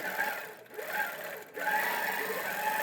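A sewing machine runs steadily during free-motion quilting, its motor hum continuous and fairly close, with two brief pauses as the stitching stops and restarts.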